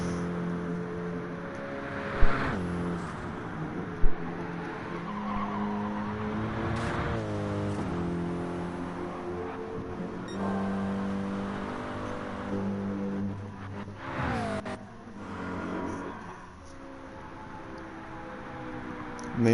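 GT3 race car on fresh soft tyres in a racing game during a league series round: a sustained engine drone with rising and falling gear-change sweeps, loud and close, plus a couple of sharp clicks.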